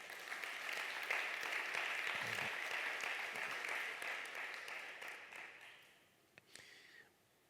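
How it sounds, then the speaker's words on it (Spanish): Church congregation applauding during a sermon, a steady wash of clapping that holds for about six seconds, then thins out and fades with a few scattered claps at the end. "Dale un aplauso al Rey."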